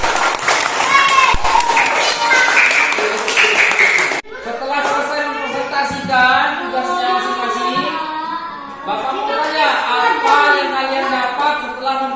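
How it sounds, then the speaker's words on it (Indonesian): Pupils in an elementary school classroom clap for a group after its presentation, a loud burst of applause lasting several seconds before children's voices take over and carry on talking. "Kasih tepuk tangan untuk kelompok visual."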